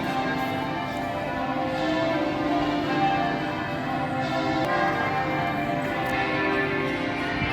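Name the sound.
church bell ringing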